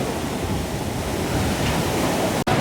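Sea waves on the Vadamarachchi beach shore make a steady, loud broadband rush with no distinct breaks, heard alone without talk.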